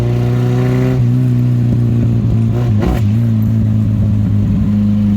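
An MG Midget car coasts straight downhill toward a stop sign, its engine droning steadily at close range with a brief rising rev near the middle, then settling back to a low, even hum.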